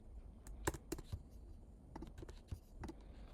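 Sparse, irregular computer keyboard keystrokes, clicking a few at a time over a quiet room, close and fairly soft with no talking.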